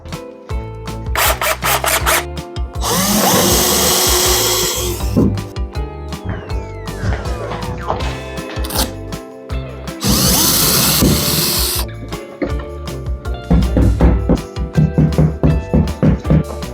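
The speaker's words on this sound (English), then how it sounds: "now power drill." Power drill whirring in two long bursts among clatter, tapping and handling of wood and tools, loud and close, while cat dining tables are built; a few voices speak between the bursts.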